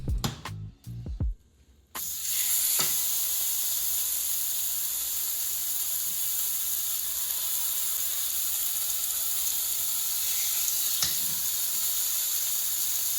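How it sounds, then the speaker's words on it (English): Steaks searing in hot olive oil in a pan give a loud, constant broadband sizzle and hiss after a few brief clattering knocks at the start, with no speech. "As the oil's coming up to temp, we're ready to drop these steaks."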